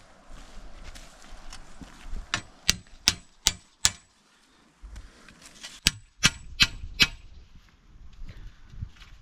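A hammer taps on a big piece of cement at a Portugal homestead: two sharp bursts of about five hard, ringing knocks each, close and distinct, with quiet pauses between.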